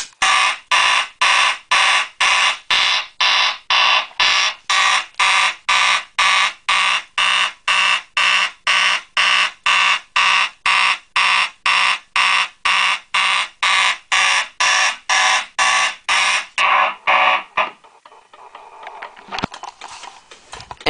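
An Edwards 278B fire alarm system sounds in a fast march pattern, loud and close, with about thirty rapid, evenly spaced pulses repeating until it stops abruptly, leaving quieter room noise.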